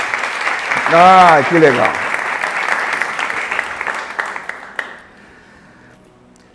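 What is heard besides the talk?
audience applause for a couple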